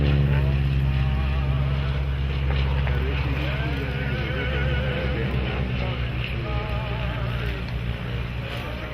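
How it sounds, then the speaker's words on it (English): A Stearman biplane, the Wichita, Kansas-designed radial-engine aircraft, flying at the Geneseo Air Show, its steady loud propeller drone holding throughout with a low harmonic rumble and slight wavering pitch. "So we're flying our Stearmans today"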